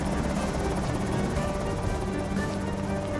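A helicopter flies overhead in the Project Zomboid video game, a dense, constant rotor rumble that fills the whole stretch at steady loudness.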